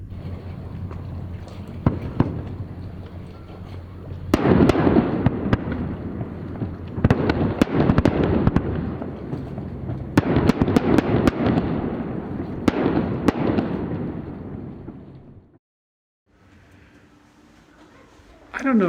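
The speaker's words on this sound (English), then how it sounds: "There was a mid-finale, and fireworks kept going off afterwards, but it was just gorgeous." A fireworks finale bursts over Hokkaido, Japan, with dense crackling and sharp pops. Waves of loud, overlapping explosions are followed by a brief hush and then a quieter tail.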